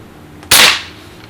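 A Winchester 1977XS pump air pistol, pumped four times, fires one pellet with a single sharp, loud crack that fades away quickly, heard alone.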